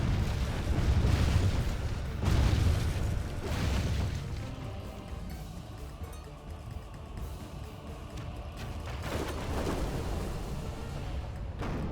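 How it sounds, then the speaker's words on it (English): Siege weapons firing at mangonels in a Crusades strategy battle, heavy booming impacts landing in a few loud bursts early and again near the end over a rumbling battlefield bed. "Okay, they are still firing at the mangonels"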